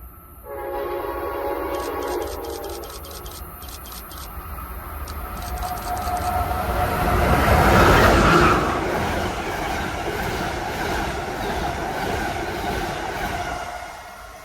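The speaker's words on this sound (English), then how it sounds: "an Amtrak Northeast Regional is seen coming through on Track 1 as it heads for its next station stop at Metro Park" An Amtrak Northeast Regional passenger train passes on track through Central Jersey, with a horn blast, a rising loud rumble and clatter of wheels as it goes by, then fading.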